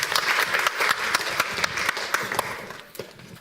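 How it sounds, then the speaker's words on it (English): Warm applause from an audience at a documentary film festival event, with steady, dense clapping that carries on throughout and stays loud and close. "A warm applause."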